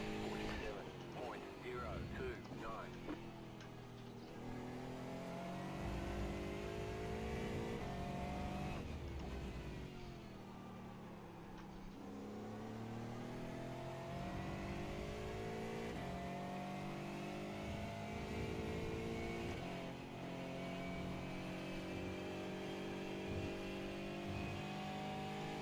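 A Porsche race car engine in the iRacing sim revs and shifts through a steady, layered drone with rising and falling pitch sweeps as it accelerates out of a corner, other cars faintly around, with a voice talking over it.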